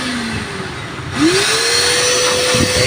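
A wet and dry vacuum motor hums loudly and continuously, its pitch rising as it spins up and then holding a steady whine, with no talking.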